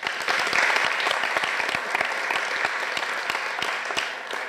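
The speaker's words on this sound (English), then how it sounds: "I would like to have a big applause for Susan Blackmore" An audience applauds a visiting professor at a lecture on artificial intelligence, a dense crackle of many hands clapping steadily at moderate loudness, tapering slightly at the end.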